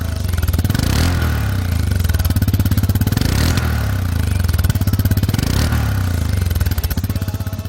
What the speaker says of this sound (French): l'on sent immédiatement la vigueur du bloc 4 temps dans la sonorité rauque et les montées